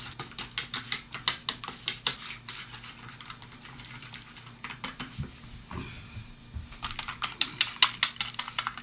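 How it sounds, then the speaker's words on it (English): Seasoning mixture of pepper is whisked in a bowl for an Austrian home recipe, rapid close clicking strokes in bursts, pausing in the middle and then resuming faster. "Then you whisk it again."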